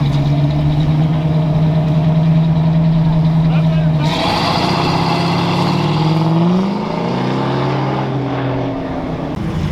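A Cummins 4BT diesel engine idles nearby with a steady low rumble and harmonic drone, shifting pitch slightly partway through as other vehicle and engine noise mixes in, with people talking over it.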